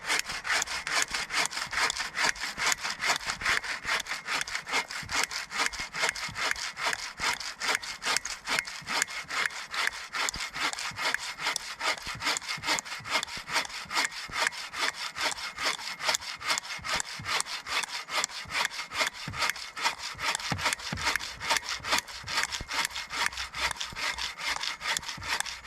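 Steady back-and-forth hand sawing through a large piece of wood on a sawhorse at a winter camp, rhythmic rasping strokes continuing for a long stretch, close and fairly loud.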